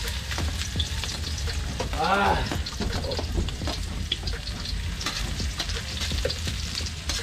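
Garlic and onion frying, a loud, steady crackling sizzle with stirring scrapes underneath. A brief voice-like tone rises partway through.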